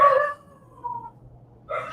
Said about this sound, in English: Yeah, the dogs. what is he barking for?